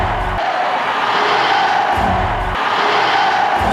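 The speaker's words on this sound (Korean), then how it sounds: "삼천리는 만세 함성으로 뒤덮였다." A large crowd shouts manse cheers at Korea's liberation in 1945, a continuous, loud wash of massed voices with brief low thumps recurring in the background.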